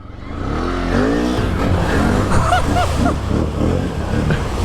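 A Can-Am Renegade ATV engine revs hard and loud up close, rising from a low idle into a sustained roaring climb with shifting pitch as the rider attacks a jump.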